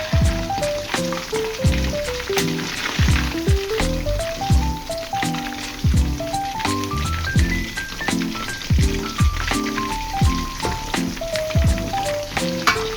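Chicken pieces frying in hot oil for a butter-sauce chicken dish give a steady, close sizzle that runs the whole time beneath a melodic background tune.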